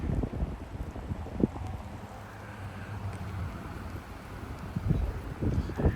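Strong 30 mph wind gusts with sleet in Frisco, Texas, a continuous blustery rush buffeting the microphone, rising and falling in surges at moderate loudness.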